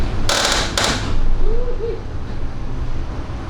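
Steering mechanism on a pontoon boat being turned, two sharp scraping bursts followed by a soft mechanical creak, close up.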